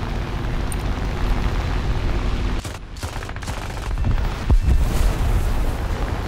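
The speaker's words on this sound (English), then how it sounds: "since when did these machine guns hit like fucking 20 mils?" Machine guns on a D-500 aircraft firing in War Thunder, heard as a continuous roaring barrage with a few sharp dips and booming hits, loud and close throughout with no talk.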